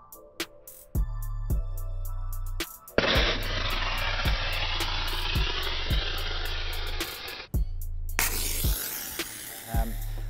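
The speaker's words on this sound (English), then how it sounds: "Put an open flame to the bottom, and then it shows you how it discharged the fire" A fire suppression system discharges inside a server rack test rig, where an open flame at the bottom sets it off: a loud sustained hissing gas burst that starts abruptly and cuts off, with repeated low thumping clicks and hum underneath.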